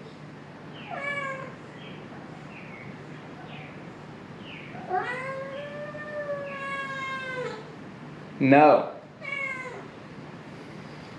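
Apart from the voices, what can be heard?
cat meowing, wanting to go outside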